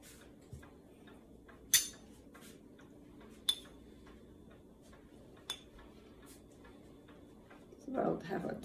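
Small metal spoon clinking against a cup while stirring tulsi tea sweetened with brown sugar, a few sparse, sharp taps spaced a second or two apart over quiet room noise, with a soft rustle near the end.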